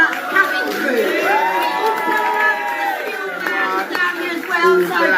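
A crowd cheers and whoops on a flight with an all-black flight and cabin crew, loud, close voices overlapping in a lively burst, with shouting and chatter mixed in.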